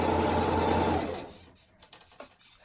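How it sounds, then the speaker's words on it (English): A sewing machine runs a straight stitch along a folded Dollar Tree scarf, whirring steadily and close for about a second before stopping. Scattered small handling clicks follow. "sewing a straight stitch in place"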